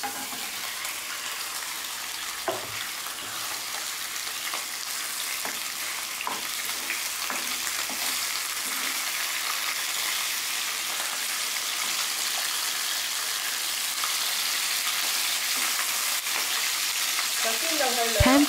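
A salmon head pan-fries in ginger-infused oil, making a steady, close, crackling sizzle that holds for the whole stretch, with a few light pops and a faint clink near the end.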